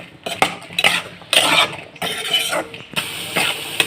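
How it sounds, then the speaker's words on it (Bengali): A spoon scrapes and stirs through salted mashed small potatoes in a metal pan, giving repeated close, uneven scraping strokes with clinks against the pan, with no talk. "লবণ দেওয়ার পর এটাকে ভালোভাবে নাড়াচাড়া করে নেব।"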